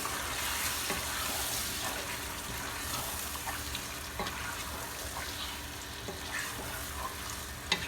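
Marinated chicken for biryani is stirred in a hot pot, a soft continuous sizzle with occasional scraping knocks of the spoon, fairly quiet and steady with no talking.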